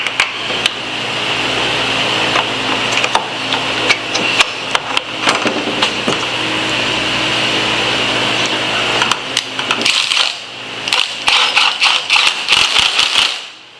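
A 1 1/8-inch end mill cuts aluminum on a milling machine, a steady loud high machining whine with a low motor hum beneath, broken by frequent sharp rattling chatter and clicks that thicken near the end.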